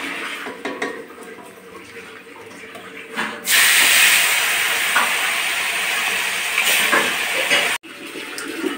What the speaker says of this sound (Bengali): এই যে এখন এই ঝিলিক মাছটা ভেজে নেব।